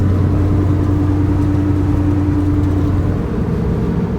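A 1968 Ford Mustang engine hums steadily while cruising, with a loud, even low drone and a mid-range whir that stays constant and then eases slightly near the end, with no voices.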